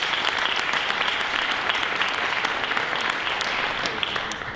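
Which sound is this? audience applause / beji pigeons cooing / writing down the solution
audience applause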